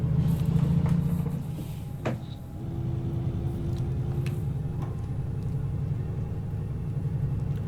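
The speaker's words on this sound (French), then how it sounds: "Et le bruit, quand on passe les vitesses là de la boîte, moi j'adore" Irisbus Crossway LE Euro 4 city bus in OMSI 2, its engine droning steadily with a brief clunk and pitch change around two seconds as the gearbox shifts, then settling into a constant hum.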